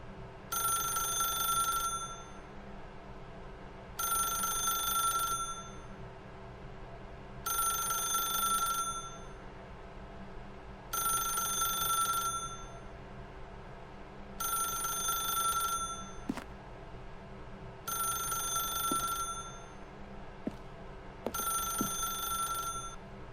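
An old-style telephone bell rings in The Stanley Parable, seven regular two-second rings separated by pauses, clear and close over a low ambient hum.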